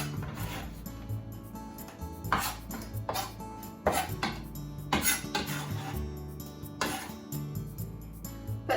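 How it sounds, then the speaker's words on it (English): Sliced cucumber is tipped into a bowl for a glass noodle salad, a string of clattering kitchen knocks and scrapes, close and fairly loud, irregular throughout with no voices. "So let's put the cucumber in the bowl."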